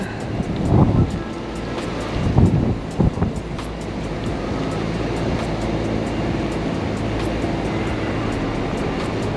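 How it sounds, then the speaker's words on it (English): Steady wind rushes and buffets the microphone at an industrial delivery yard throughout, with a few heavier gusts near the start. "It's a little bit windy."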